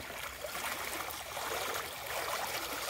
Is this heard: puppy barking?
no